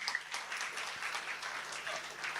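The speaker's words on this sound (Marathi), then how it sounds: "जोरदार टाळ्या झाल्या पाहिजे" A fairly quiet, steady round of clapping fills a hall at a community association's annual gathering in Dombivli, applauding two doctors, with a continuous even texture throughout.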